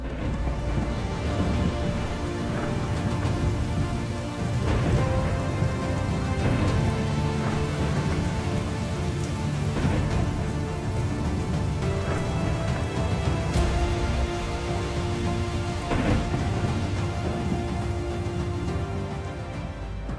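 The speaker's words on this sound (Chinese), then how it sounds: "正是来自上帝的人工暴雨。" Heavy rain pours steadily in the God Simulator video game, a dense continuous downpour with low rumbles that suggest distant thunder, loud throughout with no voices.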